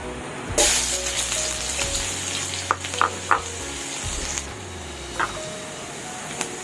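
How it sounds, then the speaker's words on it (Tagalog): Garlic and onion sauté in hot oil for a coconut milk shrimp dish, a loud sizzle that flares at the start and settles into a steady crackle, with a few sharp spatula taps against the pan. "Susutin muna natin yung ating bawang sibuyas at iba pa. Painitin muna natin yung ating mantika."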